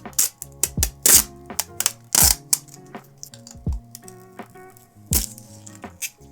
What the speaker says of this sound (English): There is a little plastic film covering the inside of the case, which is pretty nice. And so we're just gonna peel that off